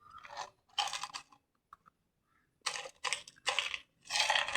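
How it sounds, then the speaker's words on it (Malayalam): Crunchy murukku snack being bitten and chewed in close bursts of crisp crunching, separated by short pauses with a few small clicks. "എത്ര മുറുക്ക് കഴിക്കുന്നു നോക്കാം."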